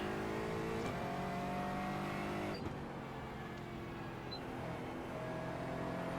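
A GT4 race car engine in an iRacing race at Okayama drones steadily and close, its pitch rising through the gears with a sharp shift break midway, then climbing again as it pulls out of a corner.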